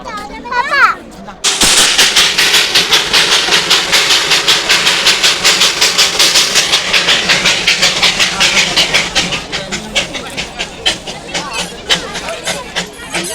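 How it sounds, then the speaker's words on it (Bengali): The Darjeeling toy train's engine arrives with loud, rapid rhythmic chuffs that run steadily for several seconds and then space out and soften as it slows. A brief voice is heard just before the chuffing begins. "টয় ট্রেন চলে এসছে"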